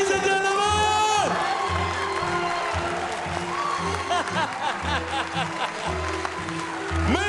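Crowd erupts in applause, cheers and whoops for the 2011 World Chocolate Master winner, a steady loud roar lasting throughout, with shouted voices and a pulsing music beat underneath.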